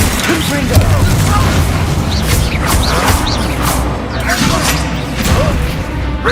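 Confringo fire-blast spell in the video game Hogwarts Legacy, loud booming bursts amid dense combat noise, with a voice calling out over the chaotic battle din.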